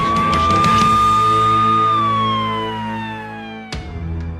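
An ambulance siren wails loud and close in one long falling tone, rushing to carry an injured woman to hospital, with a sharp knock near the end.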